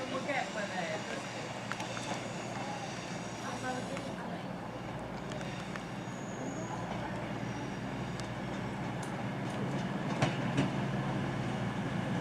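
A nine-coach CrossCountry passenger train arrives at a Northumberland station on the East Coast Main Line, a rumbling rolling drone with faint rail clatter and brief squeals, steadily building toward the end.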